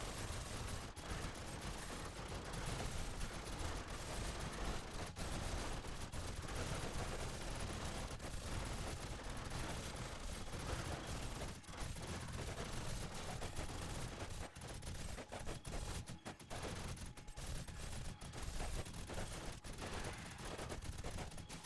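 Automated SMG and shotgun turrets in a survival video game fire continuously for the whole stretch, a dense, loud barrage of overlapping gunshots with no pauses or talk.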